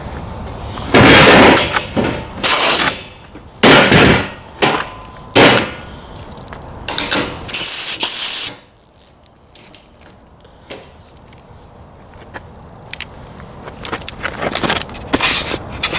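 An air hose being hooked up to an air tool in a workshop, a series of loud clacking bursts from fittings and hose handling, then a sharp hiss of air followed by quieter scattered clicks.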